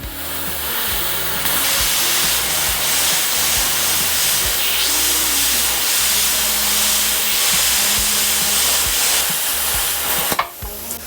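A bestarc CUT35A plasma cutter slices through 1/8 inch steel with a continuous loud hissing roar that holds steady for about ten seconds before cutting off with a brief clatter.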